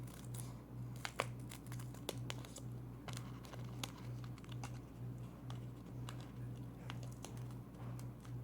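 Scissors snip through paper squares, cutting them into quarters for a handmade Halloween card; a rapid run of quiet, crisp snips and rustles sits over a steady low hum.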